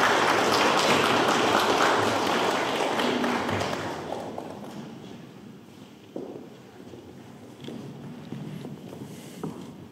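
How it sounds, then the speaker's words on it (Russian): Audience clapping at a formal document-signing ceremony during the International Cyril and Methodius Readings in Minsk; a dense, steady round of applause fills the first few seconds, then fades to scattered claps and faint room noise. "Ваши аплодисменты."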